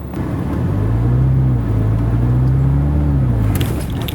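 A manual-transmission car accelerates in second gear after the clutch is let in, its engine rumbling loud and close with a steadily rising, wavering tone for about three seconds before easing off.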